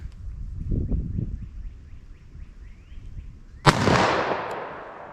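A single loud .357 Magnum revolver shot fired single action at an outdoor range cracks sharply after a few seconds of quiet rustling, its report rolling away in a long fading tail.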